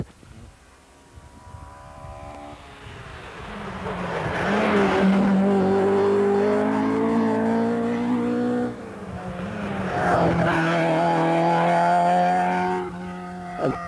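Ford Escort rally cars on a Millstreet rally stage roar past one after another, engines swelling from far to near and fading again, two loud high-revving passes in close succession.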